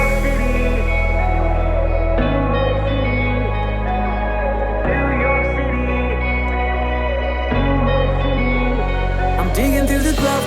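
An emotional EDM remix intro of a song plays steadily, with a deep bass note shifting every couple of seconds under layered, echoing synth chords. A bright rising sweep appears near the end.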